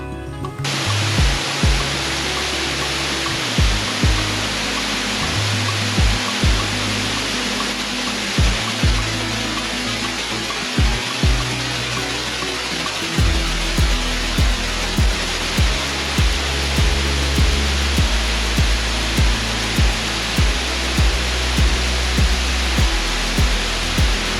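Water at the Arikkal waterfall rushes in a loud, steady roar that fills the whole stretch, with soft rhythmic thumps underneath and no voices.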